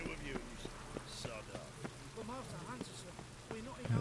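Rain falls in the Witcher 3 game world as a steady, soft patter beneath someone talking.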